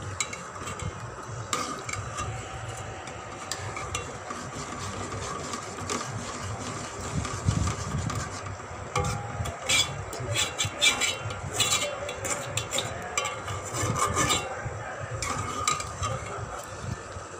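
Boiled chickpeas are stirred in a pot with a little oil, giving a soft scraping and clinking of a spoon against metal over a faint sizzle, steady with a few sharper knocks.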